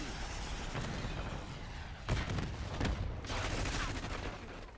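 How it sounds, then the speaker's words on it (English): Gunfire in the Call of Duty Black Ops 6 video game, several sharp bursts and a quick run of loud shots in the second half over continuous game ambience, with no clear talking. "Oh my god, I got shot in the back."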